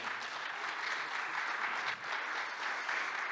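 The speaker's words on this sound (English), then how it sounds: "your applause, please" Applause fills a conference hall at an IT forum in Almaty, Kazakhstan, a moderately distant, steady patter of many hands that dips briefly before resuming.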